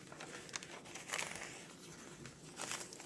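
Vintage printed music paper crinkles and rustles as it is handled, with soft crisp bursts of crackling paper sounding up close at irregular moments over a quiet background.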